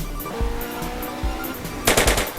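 Gunfire in GTA San Andreas, a few sharp shots early on and then a louder, denser burst near the end, set over a steady background of game engine and music.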